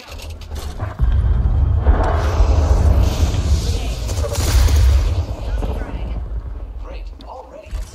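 Grenade explosion in the video game Apex Legends, a loud deep boom that swells and rumbles for several seconds amid gunfire-like crackle, with a voice shouting during it.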